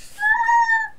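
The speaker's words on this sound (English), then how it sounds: "There goes the cat." A cat gives a single clear, bright meow lasting under a second, close and fairly loud against a quiet background.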